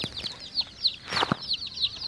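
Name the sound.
chickens clucking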